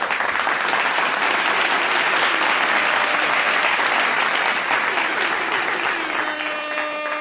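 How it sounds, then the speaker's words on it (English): A large wrestling arena crowd at WrestleMania 8 applauds in a dense, loud, continuous wash of clapping and crowd noise that thins slightly near the end, where a faint tonal sound enters. "Real applause for that."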